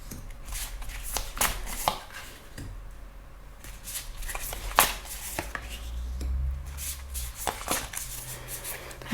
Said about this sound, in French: Alors, je place les cartes.